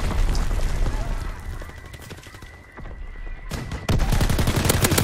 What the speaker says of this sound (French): Tire de mortier en cours.